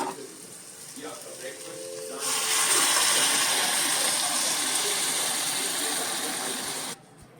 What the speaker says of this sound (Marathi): आता ह्या स्टेजला आपण त्या डाळिंब्यांमध्ये आपण जे गरम पाणी केलंय हे गरम पाणी ओतायचं